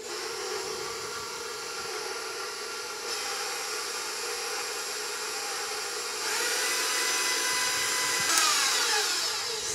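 An electric mixer beats chocolate cupcake batter in a bowl, a steady whirring drone that rises in pitch and intensity partway through as the speed increases, running continuously and close by with no talking.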